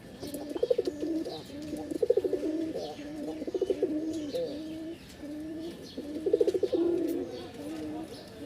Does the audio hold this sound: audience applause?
no